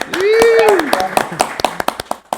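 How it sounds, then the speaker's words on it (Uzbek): Applause for prize winners at a giveaway event, a few people clapping in sharp, separate claps that grow sparser, while a voice talks loudly over the start. "Bu qarsaklar siz uchun."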